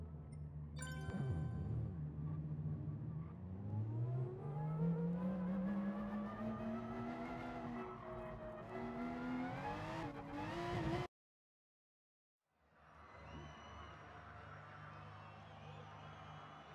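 Race cars in Gran Turismo Sport, at an FIA round test race start, roar and rev upward in a rising, loud engine whine, then after a sudden silent gap the engine sound returns steadier with a crowd-like wash.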